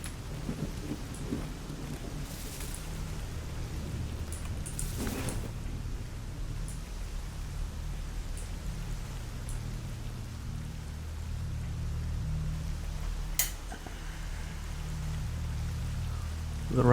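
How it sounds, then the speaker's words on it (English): Steady rain falls in the video game Escape From Pripyat, a dense low wash that runs continuously for the whole stretch, with a faint thunder-like rumble beneath and a few brief clicks and taps on top. "The rain might actually help here."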